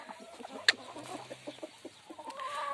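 Chickens cluck softly nearby in a quiet yard, with a brief sharp squawk early on and scattered low clucks throughout.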